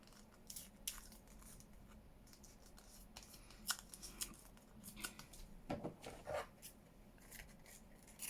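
Scissors snipping through a decorated paper craft tag, several close, crisp cuts and rustling paper handling, quiet and unaccompanied by talk.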